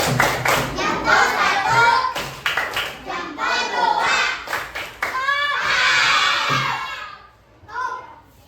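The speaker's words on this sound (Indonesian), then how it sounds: "Tepuk jempol." Elementary schoolchildren in a classroom perform a chanted thumb-clap routine, bursts of rhythmic clapping mixed with loud group voices and shouting, pausing briefly near the end before a final short burst.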